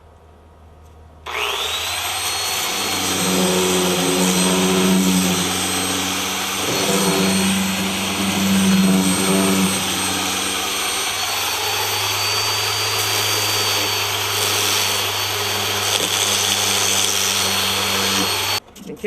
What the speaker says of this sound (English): So I'm going to sand that down real quick.